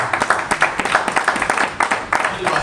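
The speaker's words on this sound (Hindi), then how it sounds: "एक बार जोरदार तालियां सत्येंद्र यादव सर के लिए" An audience at a one-day leadership development programme claps in quick, dense bursts of close applause. The clapping runs throughout and stays fairly loud.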